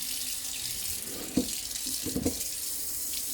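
Tap water runs steadily into a sink while rinsing sunflower sprouts, a constant hiss of flowing water with a couple of brief splashy bursts as the stream is disturbed.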